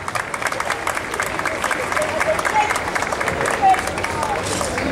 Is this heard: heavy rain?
no